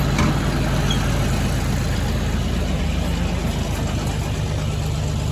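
A tractor engine idles steadily up close, a loud, continuous low rumble that holds at one level throughout.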